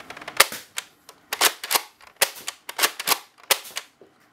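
A Nerf Vortex Praxis toy blaster being cocked and fired, with a quick series of sharp plastic clacks and snaps in irregular clusters, close and loud with no talk.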